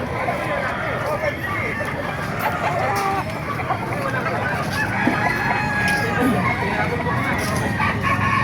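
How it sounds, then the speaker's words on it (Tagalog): Roosters crow repeatedly amid steady clucking from a crowd of chickens at a pet market, with people talking in the background throughout. "Napakaganda manok nito"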